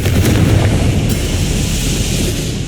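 A Confringo blast spell in Hogwarts Legacy roars as a loud, sustained broadband rumble throughout, with a sharp crackling burst near the start that settles into a heavy, steady boom.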